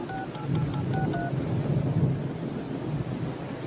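Telephone being dialed, a quick series of keypad tones in the first second and a half, heard over a steady rumble like rain and thunder.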